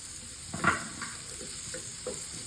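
Ginger frying in a pan for Philippine chicken sisig, with a soft steady sizzle and a few light stirring scrapes, one louder clink near the start.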